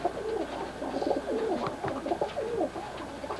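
English Roller pigeons at a loft give soft, repeated coos with some chirps, fairly close and steady throughout with no talk.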